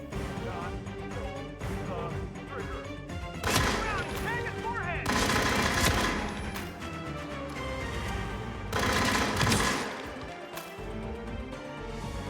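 Repeated bursts of gunfire in Hitman Freelancer, set in Paris, with loud rapid volleys and sharp impacts recurring over several seconds amid game sound and music.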